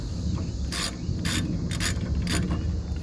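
A ratchet wrench clicks in four short bursts of rapid ratcheting against the caliper bracket of a Chevy Express, close and crisp over a steady background hum.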